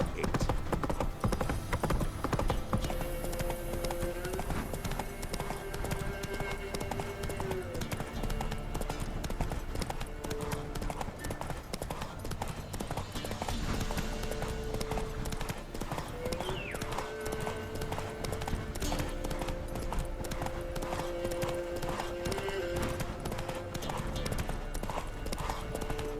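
Roach, the horse in The Witcher 3, gallops with a steady, brisk clip-clop of hooves that runs the whole time, under in-game music and snatches of character dialogue.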